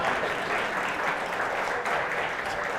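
Steady audience applause at a people analytics presentation, a moderately loud, even wash of many hands clapping throughout.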